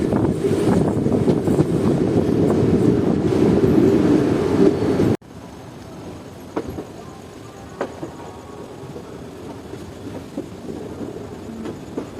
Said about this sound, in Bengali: আমাদের ট্রেন এখন ধীরে ধীরে ক্রসিং করছে হাওড়া জংশন জাংশন।